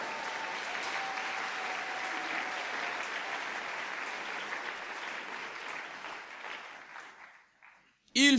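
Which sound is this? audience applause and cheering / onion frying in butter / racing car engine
audience applause and cheering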